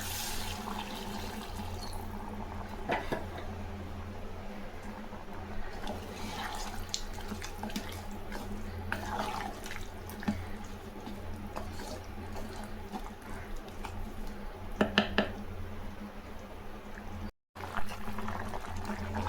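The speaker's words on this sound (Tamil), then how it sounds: "கொஞ்சமாக தண்ணி ஊற்றிக்கலாம்" Water poured into a pan of ridge gourd and brinjal cooking in oil with chili powder and salt, a running, splashing trickle followed by a steady bubbling simmer, close by, with a brief dropout near the end.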